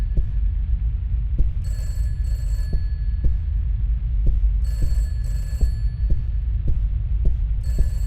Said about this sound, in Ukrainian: Щось світло вимкнулось і телефон дзвонить.